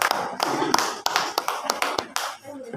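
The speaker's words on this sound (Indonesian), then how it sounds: "Tepuk tangan untuk ketiga narasumber." A small audience at a school education talk show in Majalengka claps for the speakers, producing sharp, separate claps in an uneven rhythm, close and fairly loud.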